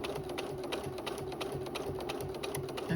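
A sewing machine stitches binding onto the edge of a quilt, running at a fast, even, rhythmic whirr with close mechanical ticking and no pauses.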